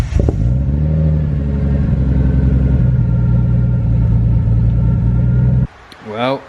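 A Nissan Skyline R32 rumbles loudly up the drive to the house, its deep engine drone steady and close with rising revs, then cutting off sharply before a brief whine at the end.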